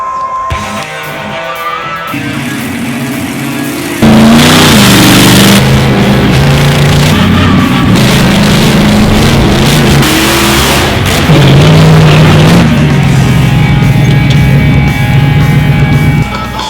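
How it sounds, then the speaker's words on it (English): A loud, heavy monster truck engine roars and revs up, pitch climbing and settling as the truck drives, close and continuous with no talking. "I'll be riding in the front seat of the monster truck"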